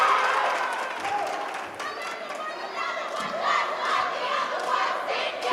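A crowd cheers and shouts in a gymnasium during a girls' high school basketball playoff game, a loud sustained roar of many voices rising and falling over several seconds.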